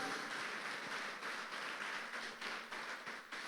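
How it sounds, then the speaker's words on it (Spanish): Church congregation applauding, a steady dense wash of clapping held at an even moderate level throughout, heard at some distance. "Dale un fuerte aplauso al Dios del cielo."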